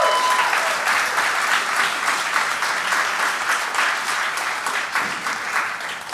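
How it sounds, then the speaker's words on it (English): Sustained applause from a hackathon conference audience, a dense, steady wash of many hands clapping close up that runs unbroken for several seconds. "Give yourselves a round of applause."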